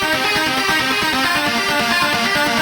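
A chiptune-style synth lead doubled with a brighter guitar-like synth plays a fast, dense line of quick notes over a pulsing beat in a video-game soundtrack mix, loud and unbroken with no voices.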